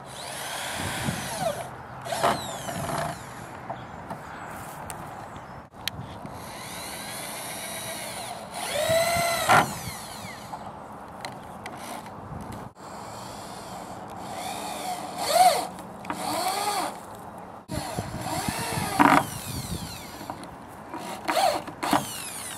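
A power drill whirs in several short bursts, revving up and slowing as it bites into the wooden frame of a greenhouse, with pauses between each drive.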